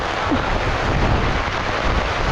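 A heavy rainstorm pounds steadily at a campsite, a dense continuous roar of rain with low rumbling that may carry thunder, loud and unbroken throughout with no voices.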